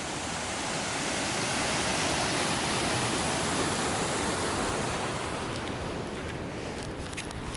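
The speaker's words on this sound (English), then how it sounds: "over here we might be able to see the waterfall" A steady, dense roar of falling water, loud and continuous throughout, easing only slightly toward the end.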